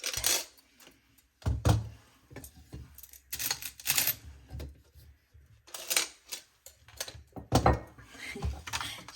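Coins clatter into a jar in several loud, close bursts with short pauses between, a jingling metallic rattle and no speech.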